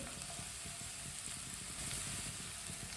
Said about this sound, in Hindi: 1 प्याली पत्ता गोभी बरीक कटी हुई डालेंगे